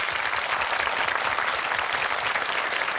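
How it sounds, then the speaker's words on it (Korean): A studio audience at a television broadcast about an army division claps in steady, continuous applause, loud and even throughout, with no talking over it. "큰 박수입니다."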